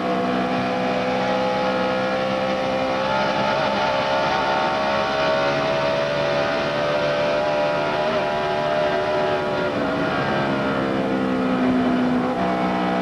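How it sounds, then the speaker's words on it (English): NASCAR stock cars at the 2005 Coca-Cola 600, among them Jamie McMurray and Jimmie Johnson's Lowe's Chevrolet, roar past the start-finish line, a loud sustained engine drone with shifting pitch and no voices. "Jamie McMurray and Jimmy Johnson coming past the start-finish line now"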